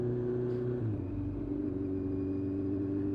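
A restored Kawasaki Z1 750 motorcycle rides along a road toward Scarborough, its engine a steady, close droning hum with a slight pitch shift, mixed with low wind rumble and no talking.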